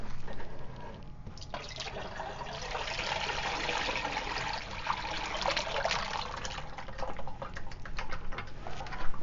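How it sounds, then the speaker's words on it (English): Ceramic glaze pours from a bucket, a continuous liquid splashing and pattering stream with small drips and trickles, steady and close for several seconds. "I can pick it up and pour the rest of the glaze over"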